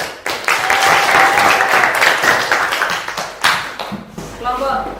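A group claps in a classroom, with brisk applause filling most of the moment while voices talk over and after it.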